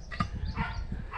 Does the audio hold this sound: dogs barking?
yes